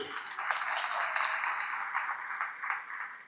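An audience in Burundi applauds at a political address attended by Tanzania's prime minister, dense sustained clapping from many hands that swells slightly and then tapers.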